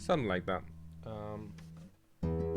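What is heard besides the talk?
No everyday noises stand out.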